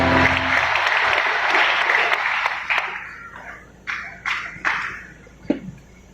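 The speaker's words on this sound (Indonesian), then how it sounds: "Tepuk tangan buat pemain yang hebat" Audience applause at an anniversary celebration for Yayasan Pesat Nabire, honoring performers: a loud, dense round of clapping that thins out into a few scattered, separate claps near the end.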